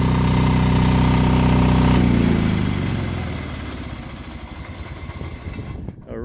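An Onan 12.0 DJB-MS diesel generator runs loud and close with a dense, throbbing hum, then is shut down, winding down into a rougher, uneven sputter before it falls quiet.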